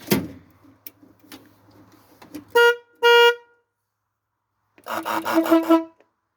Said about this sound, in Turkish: Orijinal kornamız da burada duruyor.